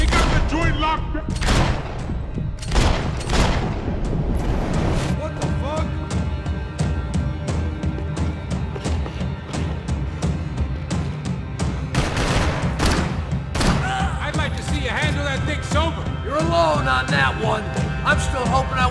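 Rapid bursts of gunfire in the shooter game Max Payne 3, loud repeated shots and volleys spread across the whole stretch, mixed with game voices talking and shouting.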